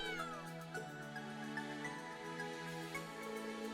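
Cat meowing in the video game Trails of Cold Steel 3, a few rising meows over a steady musical bed of sustained tones, fairly quiet with no talking.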